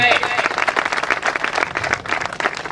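Hearty clapping from a gathered audience at an appointment letter presentation during the opening ceremony of a biocoal factory in Madhya Pradesh, a dense burst of many hands that stays loud and even across the moment.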